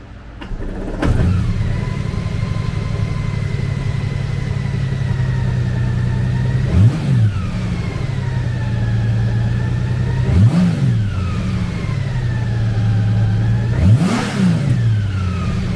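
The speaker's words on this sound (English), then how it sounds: "Powered by an 1833cc six-cylinder engine, the Goldwing puts 124 horsepower and 125 foot-pounds of torque through a six-speed transmission." Honda GL1800 Goldwing Tour with an 1833cc six-cylinder engine idling close by, then revving sharply three times, each rise and fall clearly audible over a steady engine hum.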